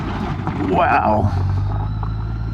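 A side-by-side ATV engine runs nearby at Hayfields State Park, a low, continuous rumble that swells briefly near the middle, with a voice audible over it.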